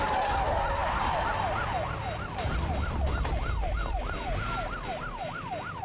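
An ambulance siren wails in a rapid, repeating up-and-down sweep, loud and close, with a faint engine rumble and a few sharp knocks underneath as the vehicle arrives in an action movie scene.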